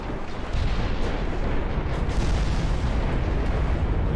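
Warship guns firing in the naval game Ultimate Admiral Dreadnoughts, a dense continuous rumble of rapid booming salvos from smaller guns, loud and sustained throughout with no talking.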